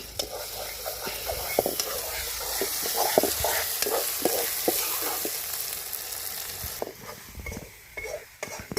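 Snail meat and spices for a curry sizzle and fry in a village pan, with the steady hiss broken by repeated clicks and scrapes of stirring.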